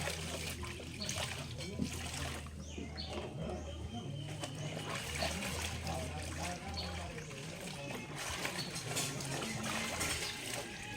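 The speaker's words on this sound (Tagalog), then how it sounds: "Grabe ang pressure no sa tubig." Strong running water splashes and trickles steadily during hand-washing of laundry, close and continuous, with people talking over it and birds faintly in the background.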